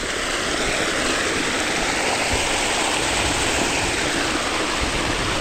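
Strong flow of water rushing into a farm canal, a loud, continuous broadband roar like a waterfall that stays steady throughout with no voices.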